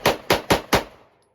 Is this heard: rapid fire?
yes